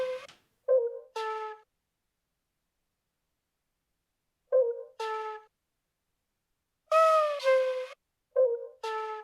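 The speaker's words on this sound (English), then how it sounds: "I chucked in the flute sample" Flute sample loaded in Serato Sample, playing short breathy tonal phrases in brief bursts separated by long silences, clear and up close with no other sounds.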